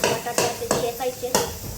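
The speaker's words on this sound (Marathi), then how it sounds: "बटाटे ठेचायचे" Boiled potatoes for vada pav get mashed in a pot, with a few sharp metallic knocks and scraping stirs, close and fairly loud, and no one talking.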